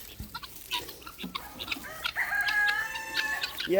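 Guinea fowl and chickens on a homestead, clucking and squawking with a rising rooster-like crow and a shrill harsh call toward the end, fairly close, no talk.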